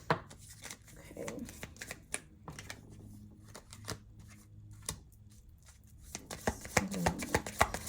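Affirmation cards are shuffled and handled at a tarot reading, a run of close, crisp riffling and tapping bursts, busiest near the end, with a voice speaking faintly underneath.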